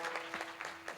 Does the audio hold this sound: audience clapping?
yes